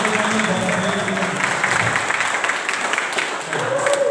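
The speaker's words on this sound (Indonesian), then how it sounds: "Sebelumnya kita beri tepuk tangan terlebih dahulu untuk calon nomor urut 1 Bapak Beri Firman." Audience applause at a village RW chief candidates' presentation in Sukaharja, Cijeruk, Bogor: a dense, fairly loud patter of many hands, mixed with crowd murmur and some voices, dipping briefly before picking up again.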